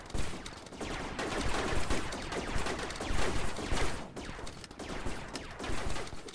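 Sustained rapid gunfire in the Rec Room video game, dense overlapping bursts of shots filling the whole stretch, loud and nearly continuous with no talking.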